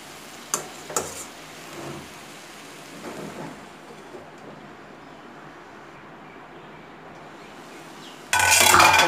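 Tomatoes and onions for butter chicken sizzle softly in a pan with a faint steady crackle, broken by a few utensil clinks and stirring scrapes near the end.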